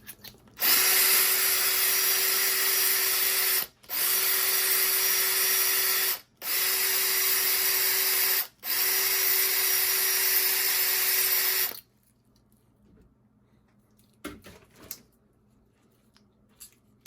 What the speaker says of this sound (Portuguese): ela é capaz de cortar o meu pescoço e já fazer o processo de chanfrar por dentro e por fora